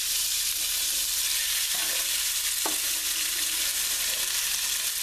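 Beef frying in olive oil in a pan over a fairly high flame gives a steady, loud, hissing sizzle throughout, with a couple of soft clinks from the pan.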